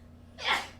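A single sneeze, sharp and close, rising quickly out of near silence.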